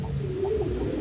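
Fancy pigeons coo in a low, steady murmur at close range, a soft continuous warble with no voices over it.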